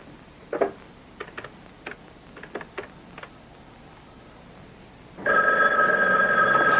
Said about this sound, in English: Take it easy, it's my phone.